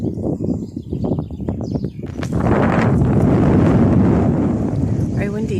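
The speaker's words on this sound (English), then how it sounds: "Very windy today." Strong wind roars at Fort Augustus at the end of Loch Ness, buffeting the microphone loudly and steadily, after a voice speaks briefly at the start.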